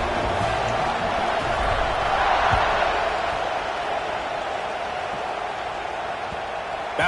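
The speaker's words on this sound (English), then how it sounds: "Set to kick it off, and this crowd now ready to get behind them." A college football stadium crowd roars steadily as the team lines up to kick off before halftime, a dense, distant wall of cheering that swells slightly midway and holds without pause.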